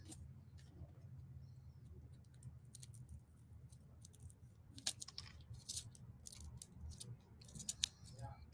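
Scissors cutting styrofoam pieces for a spring and Easter napkin decoupage canvas, a series of quiet crisp snips that grow busier and more frequent toward the end over a low background hum.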